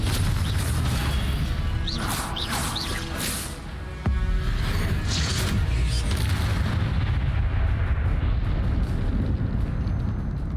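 Spell explosions and magical blasts in the PC game Hogwarts Legacy, a loud continuous rumbling mix of booms and crashes with a sharp impact midway, no talk.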